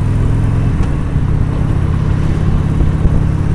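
A Harley motorcycle cruising along Sunset Boulevard in Los Angeles gives a steady, close engine drone with wind rush that stays constant and loud throughout, with no talking.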